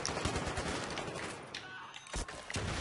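Rapid automatic gunfire in Battlefield 3 multiplayer on the Operation Métro map, dense bursts with a short lull near the end before more shots, close and loud.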